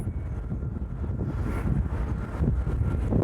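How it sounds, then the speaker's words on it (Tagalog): Strong wind at sea buffets the microphone in a steady low roar, rising slightly toward the end, with no voices. "Lakas ng hangin"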